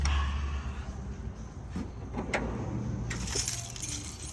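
Keys jangling during the handover of an Austrack Tanami X15 caravan, a few light metallic rattles and clinks near the mic over a low background hum, with no talking.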